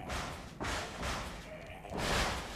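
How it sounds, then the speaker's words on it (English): Knocking on a door in the video game The Evil Within 2, heard as three heavy, broad thuds spaced about three-quarters of a second apart, loud and close, with no talk over them. "Keep knocking."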